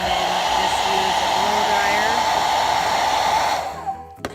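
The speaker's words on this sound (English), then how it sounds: "use a blow dryer for just a few seconds, just so it's a little bit more pliable" A blow dryer warms a Jamberry nail wrap to soften it before application, giving a steady, close, continuous whooshing whir for several seconds before it clicks off near the end.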